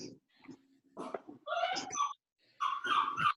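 A small chihuahua barks in a few sharp, high yapping bursts separated by brief pauses, close and fairly loud indoors.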